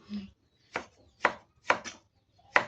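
Meat being chopped into large pieces with a knife for a home-style curry: five sharp, close chopping strikes at uneven intervals, with no talking.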